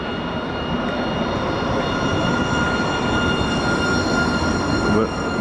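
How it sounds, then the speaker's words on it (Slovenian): A Munich tram rolls along quietly with a smooth, steady low rumble and faint electric whine, continuous and fairly close throughout. "Moj lep tramvaj, lepo tiho laufa."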